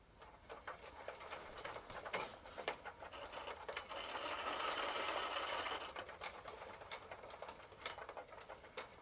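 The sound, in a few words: 1993 Gazelle Speciaal bicycle hub running in third gear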